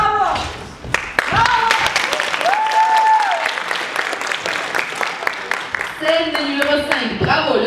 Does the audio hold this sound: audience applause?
yes